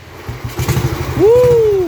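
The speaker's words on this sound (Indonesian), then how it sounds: "di akhir video kita tes nyala mesin" A restored 1948 Royal Enfield motorcycle in healthy running condition fires up: a run of close, loud low thumping beats as the old engine turns over, then a rising sustained tone as it catches and runs steadily.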